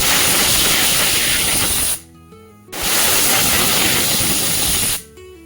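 Pressure cooker whistle hissing loudly as it releases steam while cooking carrot halwa, two long sustained blasts of about two seconds each separated by a short quiet gap.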